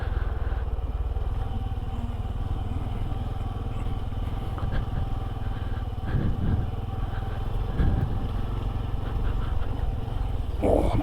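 Honda CT125 motorcycle riding along a green lane, a steady low engine drone with wind rumble throughout and a few brief louder bumps, heard from the rider's position.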